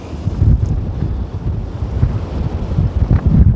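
Strong morning wind buffets the microphone at a winter carp fishing lake, a loud gusting roar rising and falling in waves with heavy low rumbling bursts.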